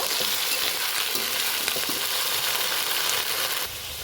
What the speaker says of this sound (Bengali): আলুটা আগে দিয়ে দিলাম তেলের উপরে। এটা একটু ভাজা ভাজা করে নেব।